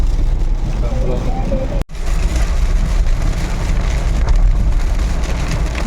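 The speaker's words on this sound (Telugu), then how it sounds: "వర్షాన్ని లెక్క చేయకుండా ముందుకు సాగదీస్తున్న శేఖర్ కమ్ముల" Heavy rain pours steadily, a dense broadband hiss with patter on surfaces and a brief dropout partway through, heard alone without talk.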